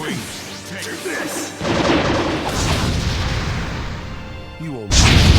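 A fire style majestic hurricane attack in the fighting game Naruto Shippuden Ultimate Ninja Storm 4 comes across as loud roaring blasts and crashing impacts with whooshing bursts, building into a final heavy boom, mixed with game voices.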